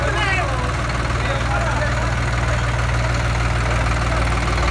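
A New Holland tractor engine idles up close with a loud, steady low throb and a rhythmic knocking pulse, while people talk faintly over it.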